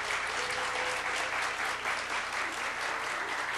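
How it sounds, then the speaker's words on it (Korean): A church congregation at a mothers' prayer meeting bursts into sustained applause, dense and loud clapping filling the hall evenly with no speech over it. "우리 김복락 원사님과 스태프진들에게 큰 박수 한번 보내주시기"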